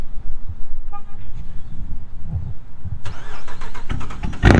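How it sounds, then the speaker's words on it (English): A Chrysler 300C cold start: quiet idling noise, then the starter and engine catch about three seconds in, rising sharply into a loud, close roar. "But what's a video, car video, without a cold start?"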